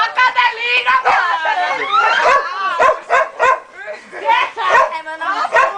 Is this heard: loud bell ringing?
no